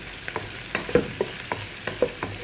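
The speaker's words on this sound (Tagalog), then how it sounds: "Saka natin siya haluin." Macaroni soup (sopas) stirred in a cooking pot after black pepper goes in, with a spoon knocking and scraping in irregular strokes about twice a second, close and moderately loud over a faint simmering background.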